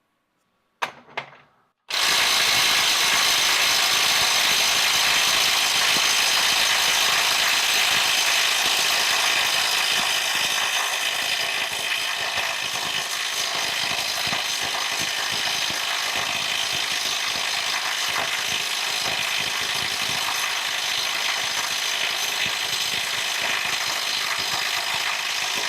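A Snap-on Stubby CT9038 18V impact wrench hammers on a bolt at a 600 ft-lb setting in mode 3, with a few brief blips and then a loud, continuous, rapid rattling hammer that runs unbroken and close for over twenty seconds.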